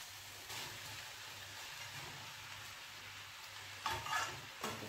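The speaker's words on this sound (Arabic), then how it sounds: "مع الفلفله والبصله كما كتشوفوا تشحروا مزيان" Peppers and onions sizzling in a pan, a steady soft frying hiss throughout with a few brief louder stirring scrapes near the end, no voices.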